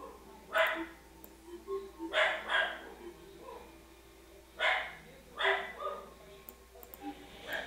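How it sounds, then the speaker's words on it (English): A dog barks in short pairs and clusters several times, fairly close and loud, with quieter yips between, while soft indoor noise continues in the background. "My dog's barking again."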